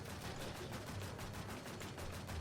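Rapid automatic gunfire shooting ghosts in the Warz Infestation Fantasy video game, a steady, faint and fairly distant stream of evenly spaced shots with no pause.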